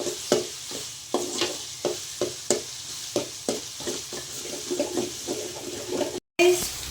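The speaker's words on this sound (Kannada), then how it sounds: "ಸೊ ಹಸಿ ಸ್ಮೆಲ್ ಹೋಗೋ ಗಂಟ ನಾವು ಚೆನ್ನಾಗಿ ಹುರ್ಕೊಬೇಕು" Ginger garlic paste fries in a pan with soft sizzling, punctuated by a regular series of scraping stirs roughly every half second, with a brief gap near the end.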